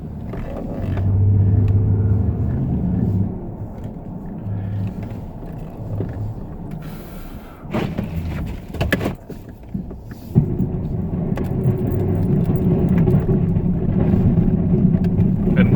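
Snow plow truck with a straight blade clearing a large lot raises its blade and backs up, a steady engine rumble with a whirring hydraulic surge partway through, continuous and close with no talk.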